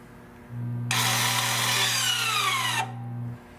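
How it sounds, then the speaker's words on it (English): A Toyota or Lexus electric parking brake reapplies with a low steady motor hum, joined by a brighter whining grind that runs about two seconds and drops in pitch before cutting off, then the hum fades. "Now I will reapply the parking brake. I will push the button up."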